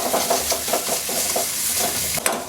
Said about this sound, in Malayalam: 1 to 2 മിനിറ്റ് ഒന്ന് സോട്ടേ ചെയ്താൽ മതി.